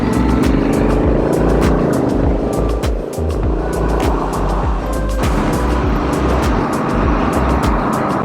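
A 2019 Honda Africa Twin DCT motorcycle ridden in manual mode with a foot shifter, a loud steady engine drone with heavy wind rumble close to the rider, and a shift in pitch partway through.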